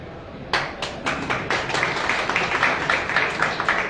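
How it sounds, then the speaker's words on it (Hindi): Sparse audience clapping at a Maharashtra employees' rally on old pension restoration, starting with a few separate claps and thickening into light, uneven applause. "अपने लोगों को अगर इतनी कमजोर तालियां देंगे"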